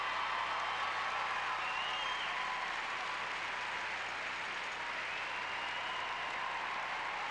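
A figure skating arena audience at the 2002 Skate Canada event applauds and cheers for Japanese skater Takeshi Honda after his free skate, a dense, steady wash of clapping and crowd noise that holds at an even level throughout.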